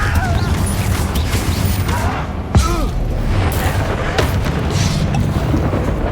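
Explosive Confringo spell blast in the wizarding game Hogwarts Legacy during combat with goblins: a sharp boom strikes midway through a loud, continuous wash of rumbling combat noise.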